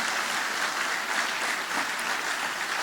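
Audience applause during a Spanish-language church sermon, a dense, even wash of clapping from a crowd, moderately distant and sustained without a break.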